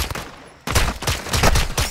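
Rapid gunfire in the video game Call of Duty Modern Warfare 2, a dense burst of close, loud automatic shots after a brief lull, continuing without pause to the end.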